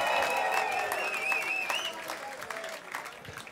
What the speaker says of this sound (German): macht mal Applaus für dieses Match